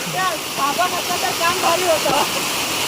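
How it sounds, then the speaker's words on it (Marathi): A Konkan waterfall pours down from a height off the cliffs, filling the air with a dense, continuous rushing hiss while someone talks over it. "तर जागोजागी धबधबे आपल्याकडे बघा नादच खुळा शॉवर उंचावरून पडतं"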